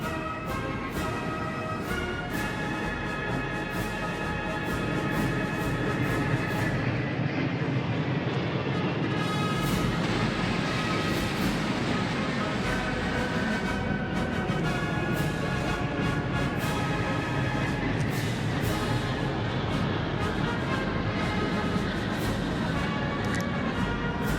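Military long-range strike aircraft fly over Tiananmen Square during a Victory Day parade, a loud continuous jet roar that fills the whole stretch and swells slightly partway through, with no speech.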